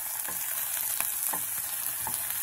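Salted meat browning in a pot for Caribbean rice and peas, a loud, constant sizzle with a few soft stirring scrapes, close up and without talk.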